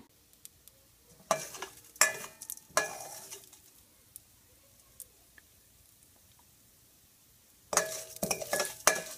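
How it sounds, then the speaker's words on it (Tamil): Moong dal is roasted in a little ghee in a pan, with bursts of scraping and stirring and soft sizzling separated by quiet gaps. "இப்போது இந்த பாசிப்பருப்பை போட்டு நம்ம வந்து வறுத்துக்கலாங்க."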